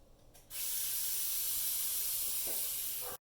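Cooking spray hisses onto a baking pan in one steady, continuous burst lasting nearly three seconds, close and clear, then cuts off abruptly.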